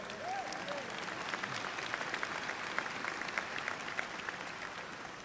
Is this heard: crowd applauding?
yes